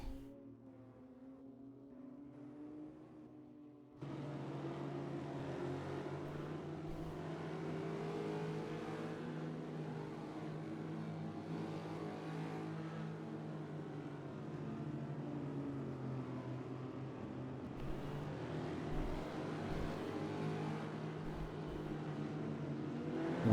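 GT4 race cars restarting on the Lime Rock circuit in the racing game Assetto Corsa: a quiet idle, then a sudden, sustained roar of several engines revving hard together as the field accelerates, staying loud and dense to the end.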